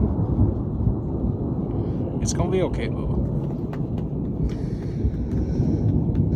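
Thunder after a distant lightning flash in a storm, a long low rumble rolling continuously beneath a voice speaking briefly, with a few faint higher-pitched sounds midway.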